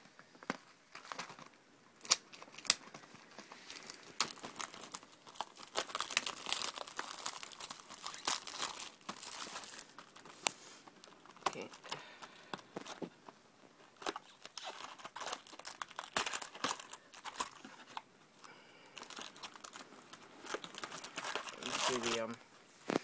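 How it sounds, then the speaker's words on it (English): Yu-Gi-Oh Secrets of Eternity booster pack wrappers crinkle and tear as packs from a booster box are opened one after another, close and fairly quiet, with steady rustling and occasional sharper rips. "I got a Secrets of Eternity booster box off the internet and thought I'd open it up."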